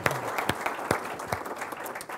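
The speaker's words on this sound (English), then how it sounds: "So let's give them all a round of applause." Audience applause at a company event, an even spread of claps with a few sharp nearby hits standing out, fairly faint and steady, no speech.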